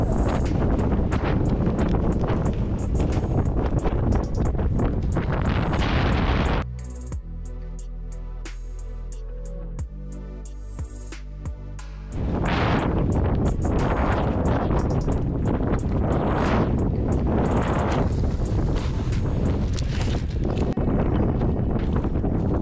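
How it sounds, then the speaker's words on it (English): Strong wind buffets the microphone on a mountain ridge during a backcountry splitboard outing near Whistler, a loud continuous roar with gusts that briefly drops away mid-clip, leaving quieter tones, before surging back. "the wind is blowing"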